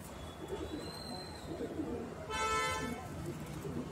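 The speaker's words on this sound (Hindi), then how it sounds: "बिल्कुल जला हुआ कबूतर है, छोटे से साइज में।" Madrasi pigeons coo softly in a loft amid background murmur and voices. A brief horn-like tone sounds near the end.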